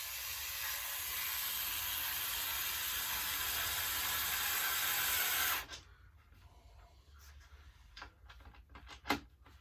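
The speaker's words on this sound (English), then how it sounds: "And run your screws in." Screws are run in by hand while assembling a staircase stand, heard as a series of close, dry ratcheting clicks after a stretch of steady broadband hiss.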